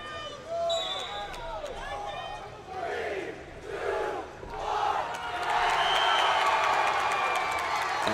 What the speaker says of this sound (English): The crowd is pumped.